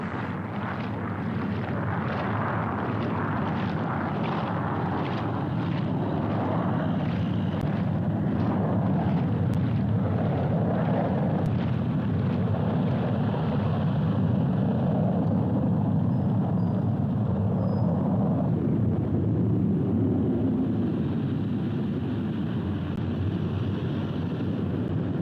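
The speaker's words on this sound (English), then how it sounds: "And here comes an airplane, so goodbye." An airplane passing overhead in the UK: a broad, rumbling roar that holds steady and close throughout, with rhythmic pulsing in its texture and no speech over it.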